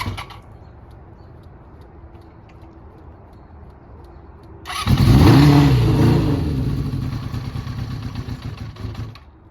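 Quiet background gives way to a 1982 Honda CB750 motorcycle engine suddenly starting close by, revving briefly, then settling into an uneven, rough idle.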